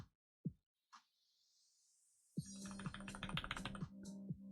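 Computer keyboard typing, a few isolated key taps followed by a dense run of rapid clicks, close and fairly quiet, with no talk.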